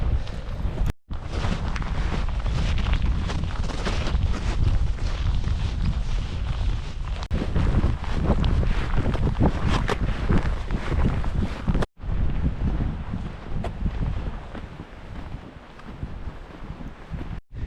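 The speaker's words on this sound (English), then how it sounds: "You can tell it gets windy here." Strong gusting wind on a mountain buffets the microphone in a loud, continuous roar, with a couple of brief dropouts and no voices.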